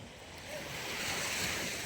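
Sea waves wash against the shore beside a fish terminal in Tanza, Cavite, as a steady, rushing surf that swells slightly, mixed with some wind noise and no voices.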